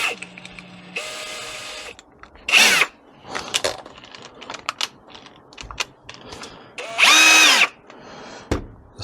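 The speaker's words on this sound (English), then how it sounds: "attach that to the drill." A power drill spins a valve grinding tool fitted with a nut driver bit on a BSA motorcycle cylinder head. Two short, loud whirring bursts are separated by quieter workshop clatter, with no talk.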